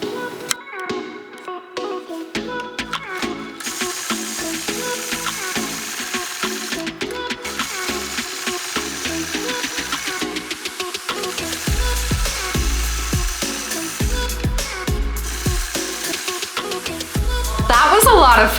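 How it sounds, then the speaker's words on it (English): A sewing machine stitches in the ditch while machine quilting a pieced quilt top with tall heart blocks, a steady rapid mechanical whirring with ticking needle strokes, close and moderately loud, mixed with other busy background sound that grows louder near the end. "That was a lot of fun to machine quilt."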